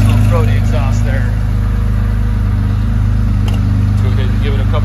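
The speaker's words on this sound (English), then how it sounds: "Listen to that" A warmed-up 1974 Porsche 911 Carrera idles steadily with a throaty exhaust, a close, constant low rumble with faint voices in the background.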